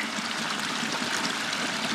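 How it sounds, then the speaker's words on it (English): Steady, broadband rush of a stream flowing at a trail crossing on the Pacific Crest Trail, close and continuous at full loudness with no voices. "At a stream crossing. Here's our first water source of the day."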